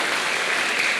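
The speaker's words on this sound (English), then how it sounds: "those folks definitely deserve a round of applause" An audience applauds at a live event with an astronaut, a dense, even burst of clapping heard close and loud, with no voices over it.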